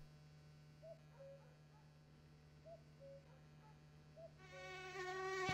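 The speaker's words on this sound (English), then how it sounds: "And mosquitoes." In the video game My Summer Car, mosquitoes give a faint thin whine that comes and goes in short swells over a steady low hum. A louder, brighter buzzing tone swells up at the end.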